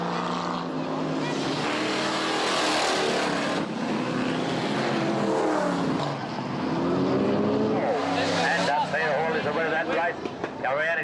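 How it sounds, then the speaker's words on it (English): Race cars roar around a track near a mining town in old documentary footage, engines whining past loudly with Doppler sweeps, while a narrator talks over the noise. "come out to the track to exchange the thrill of the colored stone for the thrill of high-speed racing"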